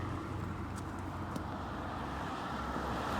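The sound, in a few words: street traffic, cars passing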